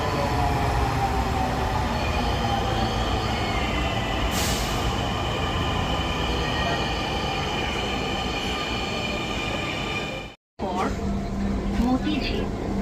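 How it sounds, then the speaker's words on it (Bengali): A Dhaka metro rail train pulls into a station on the Farmgate to Motijheel line with a loud, steady rumble and wheel noise that fills the whole stretch, cut by a brief dropout near the end, with faint voices underneath. "ট্রেনটি আসছে, এটি থামার সঙ্গে সঙ্গে যাত্রীরা নেমে গেলে গেট দিয়ে আমরা ঢুকে যাব।"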